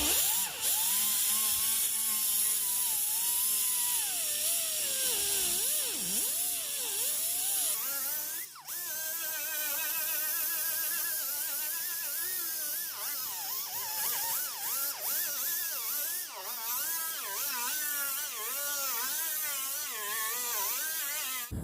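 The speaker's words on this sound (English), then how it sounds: "I'm going to get the grinder out. We're going to remove this paint and get it down to bare metal." An angle grinder with a small abrasive roll-lock disc grinds paint off a car body panel down to bare metal, a loud continuous high-pitched whine with wavering pitch as pressure changes, briefly dipping near the middle.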